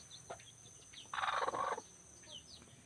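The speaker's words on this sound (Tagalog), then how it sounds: "Ayun, tandang." A rooster gives a short, raspy call amid faint background bird sounds, moderately distant and fairly quiet.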